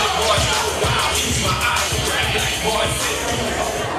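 Wrestling crowd at an Extreme Tag event jeering Jason Dugan during an I Quit match against Elijah Burke, a dense steady roar of many voices with scattered yells throughout.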